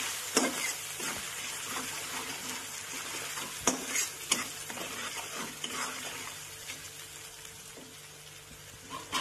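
Ginger, garlic and chili paste fry in a pan, sizzling steadily up close with sharp scraping stirs now and then, and no voices.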